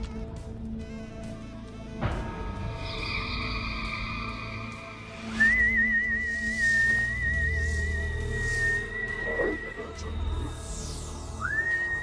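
Sustained tuneful whistling rings out in a Guardians of the Galaxy movie scene, long held pitches with slides, set over a low orchestral rumble and scattered effects.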